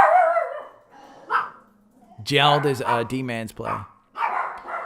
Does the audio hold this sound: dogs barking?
yes